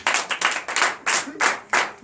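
Rhythmic clapping from a church congregation at a night deliverance service in Comè, Benin, bright hand claps falling in an even, repeating pattern, loud and close, with no voices over it.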